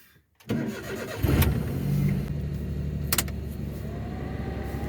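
A vehicle left unused for three months cranks briefly and catches, then settles into a steady, rough idle, loud and close.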